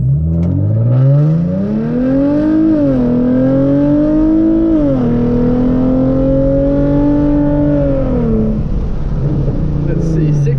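A Hyundai Genesis Coupe 3.8 pulls hard through a standing acceleration run with traction control off, its engine rising in pitch through several gears with brief dips at each shift, loud and close before easing off near the end.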